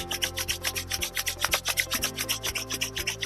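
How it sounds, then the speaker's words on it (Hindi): Bare palms rub briskly together to warm them, making a fast, steady run of close, even swishing strokes over a faint continuous background tone. "अच्छे से अपनी हथेलियों को आपस में रफ करते हुए गर्म करेंगे"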